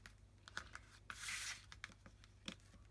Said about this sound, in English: just tear these photos up very slightly, just in a couple of places